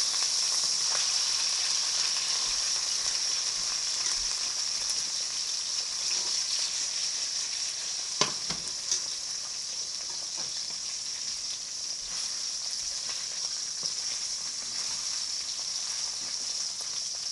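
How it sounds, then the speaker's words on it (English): Steady, hissing sizzle of hash browns frying in a pan, continuous and even, with a few faint clicks and pops. "So you're going to let those sizzle for a little while."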